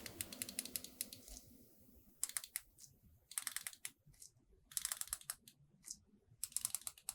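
Seiko Samurai SRPG21 diver watch bezel being turned, giving several bursts of small, crisp ratcheting clicks in quick runs separated by short pauses, close up and quiet.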